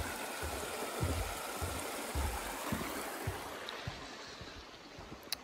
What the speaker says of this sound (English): Look at this water source.